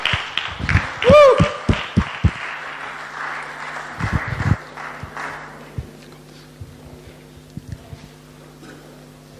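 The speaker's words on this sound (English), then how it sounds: "Let's give them a big round of applause, guys." An audience at a Toastmasters Tall Tales championship awards ceremony claps for contestants on stage. A short burst of applause comes with a shouted cheer, then thins to a few scattered claps and knocks.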